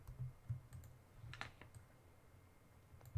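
Someone types one-handed on a computer keyboard, producing faint, scattered keystrokes at an uneven pace, with soft low bumps from the desk near the microphone.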